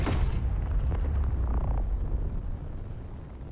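Weapons firing and explosions in the space-building game Space Engineers: a loud, sustained rumbling roar of blasts with a sharp burst at the start, dense and heavy throughout, fading slightly toward the end.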